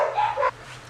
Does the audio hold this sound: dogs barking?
yes